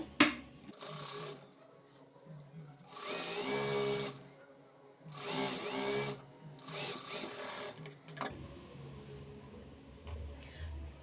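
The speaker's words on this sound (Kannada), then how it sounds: "ಇಟ್ಬಿಟ್ಟು ಇಲ್ಲಿ ಒಂದು ಸ್ಟಿಚ್ ಹಾಕ್ಕೋಬೇಕು." A sewing machine stitches blouse lining in three steady whirring bursts of a few seconds each, loud and close, with quiet pauses in between.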